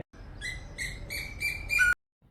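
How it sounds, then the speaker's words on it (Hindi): A female Asian koel's rapid series of shrill, bubbling calls, repeated five or six times in quick succession and rising in intensity before stopping abruptly, among green trees. "यह है मादा कोयल की आवाज।"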